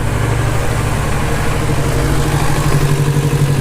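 A Kawasaki Z650 motorcycle engine idles close to operating temperature after an oil change, giving a steady, loud, low-pitched rumble with no voices.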